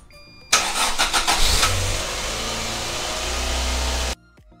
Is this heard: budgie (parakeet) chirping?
no